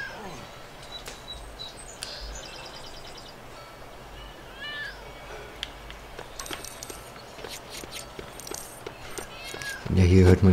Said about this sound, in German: Ja, hier hört man jetzt die Katze